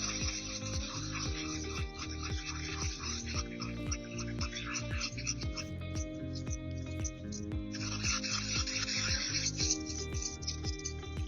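Sourdough flour and water get mixed in a bowl, a rhythmic scraping and rubbing that repeats steadily and close by, with no talk over it.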